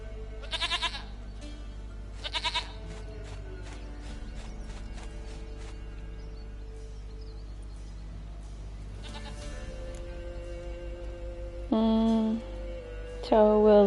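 A goat in The Witcher 3 bleats in short bursts, two quick calls early and a louder pair near the end, over a low steady background hum and faint clip-clopping, with no talking.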